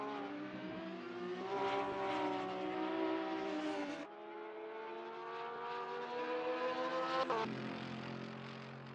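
Porsche 911 GT3R race car engines in a sim racing game at Thruxton, a loud sustained whine rising steadily through the gears, cutting off sharply with a shift partway through and then climbing again.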